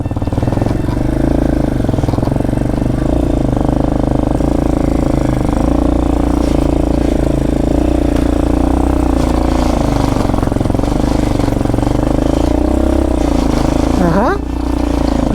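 A motorcycle rides a rough, bumpy village road in Nepal, its engine droning steadily and loudly close by, with a brief rising rev near the end and a voice heard over the noise.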